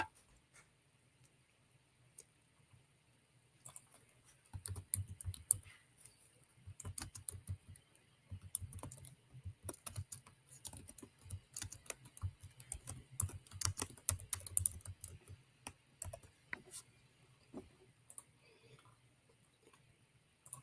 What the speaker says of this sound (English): I'm going to type today's topic into the chat